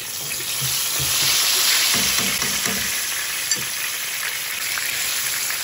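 Frozen garlic hits hot oil in a pot and sizzles loudly and steadily, a dense close frying hiss with a few faint low knocks from the pot underneath.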